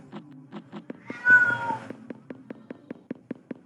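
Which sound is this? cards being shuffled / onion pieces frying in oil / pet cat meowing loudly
pet cat meowing loudly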